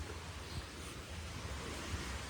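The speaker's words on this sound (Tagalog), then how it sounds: "We're here na at the beach." Waves breaking at a beach, a steady broadband wash of surf with light wind across the mic and no voices.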